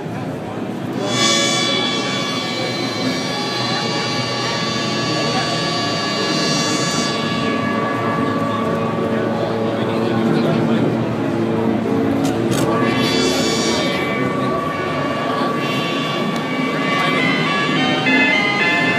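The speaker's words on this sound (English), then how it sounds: "we can hear these sort of tinny nasal sounds, which you don't typically hear from a synthesizer" A Moog synthesizer drones with a thin, nasal, band-pass filtered tone, its brightness sweeping up and down as the filter moves, steady and loud throughout.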